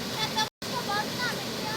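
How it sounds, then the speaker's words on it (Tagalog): A mini waterfall in a river sends a steady, soft rush of splashing water, broken by a brief moment of silence midway, then continuing evenly at a moderate distance. "We've arrived at the mini waterfall."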